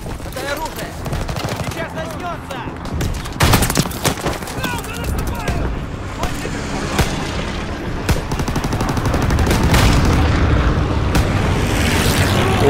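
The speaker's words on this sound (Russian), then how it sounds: "Там танк, правда, какой-то ездит, стреляет." A tank rolling and firing amid explosions in Call of Duty: WWII, with loud booms, heavy gunfire bursts and a rising rumbling roar of battle under scattered talk.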